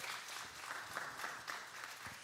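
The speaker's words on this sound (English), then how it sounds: "Let's give them a round of applause as they exit stage right" Church audience applauding the music team as they leave the stage, a soft, distant-sounding ripple of steady clapping from a gathered crowd, faint but continuous.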